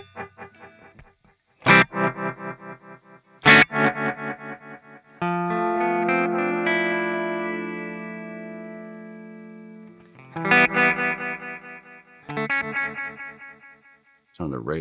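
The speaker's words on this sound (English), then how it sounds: "So I'm gonna turn the delay up at its highest thing it can go. Put some feedback on there." Old Blood Noise Endeavors Sunlight stereo pedal on electric guitar with delay set to maximum and feedback added: struck chords ring out with repeating, decaying echoes, a long sustained swell in the middle, played alone and fairly loud.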